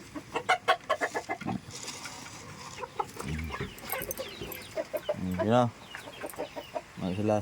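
Pet chickens, including Rhode Island hens, cluck in repeated short bursts close by, with a few louder squawking calls toward the end and no talk over them.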